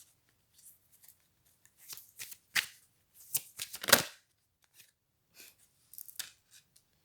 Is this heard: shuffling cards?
yes